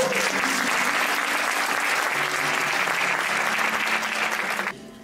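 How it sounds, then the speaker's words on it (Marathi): Audience applause at a Marathi comedy show, a loud, dense wall of clapping from a full crowd that holds steady for nearly five seconds before thinning out abruptly at the end. "तुम्ही सगळेजण आपल्या वॉशिंग्टनच्या सगळ्या लोकांकरता एक आधी टाळ्या वाजा."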